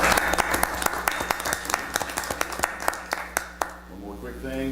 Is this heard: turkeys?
no